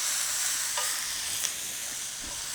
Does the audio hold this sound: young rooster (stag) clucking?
no